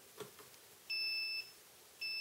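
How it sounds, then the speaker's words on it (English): A Turnigy 9X radio transmitter gives two short electronic beeps for a switch error, the first about half a second long and the second clipped, high-pitched and clear against a quiet background. "It says switch error. It's beeping at you."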